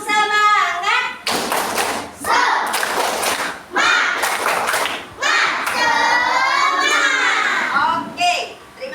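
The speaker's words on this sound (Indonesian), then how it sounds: "tepuk semangat" A class of children performs the rhythmic tepuk semangat spirit clap, loud and close: chanting young voices alternate with several bursts of patterned group clapping and thumps.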